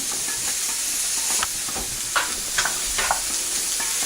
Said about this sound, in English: We'll put this over on the stove. Stir it up some.